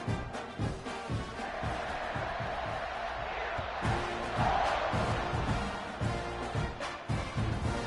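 Football stadium crowd at a Penn State game roaring steadily after an 80-yard touchdown pass, a dense, sustained wall of cheering with brief surges, close and loud throughout.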